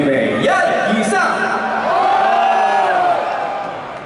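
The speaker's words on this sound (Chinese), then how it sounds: "如果是马迷的大叫一声，预备，一、二、三。" Horse-racing fans in an audience at a live stage show yell together on cue, a loud, sustained group shout that swells and then fades away.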